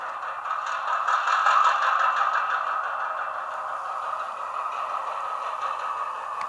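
A Chicago North Western SD40-2 model locomotive with TCS WOW sound starts up, giving a steady mid-pitched engine drone with a faint rattle that stays even and moderately loud from start to finish, with no voices.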